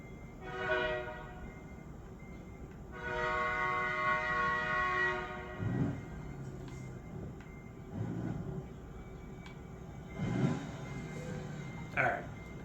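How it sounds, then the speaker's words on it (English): In American Truck Simulator, a train horn sounds in two long blasts, followed by low rumbling and clanking as the train rolls past, with a voice briefly at the end. "Oh, I hear the train"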